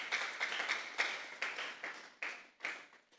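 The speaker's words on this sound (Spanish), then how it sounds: "Vamos a darle una ofrenda de palmas a Dios en esta hora" A church congregation claps in praise to God, a fairly close patter of applause that swells and fades in uneven waves with a few distinct sharp claps.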